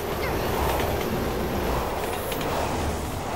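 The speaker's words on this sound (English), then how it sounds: "Train's coming." A passing train in the video game Resident Evil 6, a dense continuous rumble and rattle of rail noise filling the short stretch without speech.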